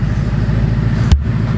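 Stock Ford Mustang GT with 10-speed automatic, exhaust set to track mode, rumbles at a steady, loud low idle close by, then gives a brief sharp burst before settling back.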